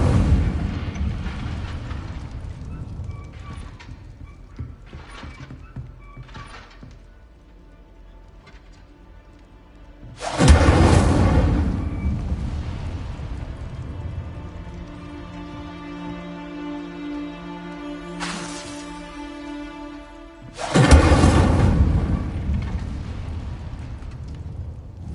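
Incendio fire spell cast in the Hogwarts Legacy video game, with two loud whooshing blasts roughly ten seconds apart, each followed by a crackling, fading roar, over quieter ambient game sounds.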